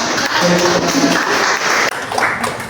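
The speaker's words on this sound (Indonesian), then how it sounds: "Tepuk tangan." Applause fills a classroom during a student debate-practice session: dense, steady clapping from a group of students, fairly loud and close, with a brief dip near the end before it picks up again.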